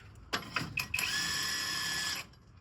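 A bolt on a supercharger pipe is tightened with a ratchet, with a few quick clicks followed by a sustained whirring mechanical buzz lasting about a second, close and moderately loud.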